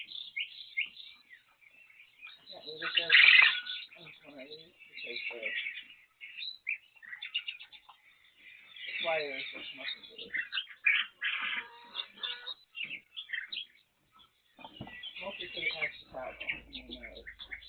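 Pet therapy birds coo and chirp in scattered bursts of varied calls, close and fairly clear, with a voice speaking among them.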